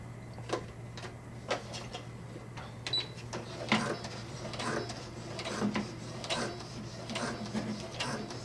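A Brother SE-400 sewing machine stitches through nylon ratchet straps, giving a steady run of soft mechanical ticks and clatter at close range, with faint talk underneath.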